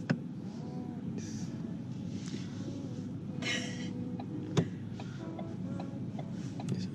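A car drives on a road on New Zealand's South Island, heard from inside: a steady low road rumble with a few faint ticks and one sharp knock.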